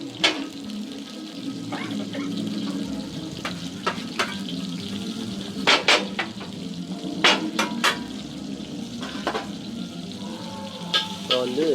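Spices sizzle and crackle in hot oil, a constant frying hiss punctuated by sharp pops and spoon clinks.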